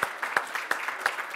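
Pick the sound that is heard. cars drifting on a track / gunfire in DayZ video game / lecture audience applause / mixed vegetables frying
lecture audience applause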